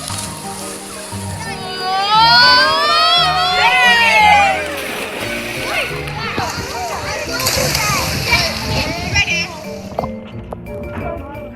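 Children splash and play in a swimming pool on a Cornwall holiday, with water sloshing, excited shrieks and kids' chatter up close, fading toward the end.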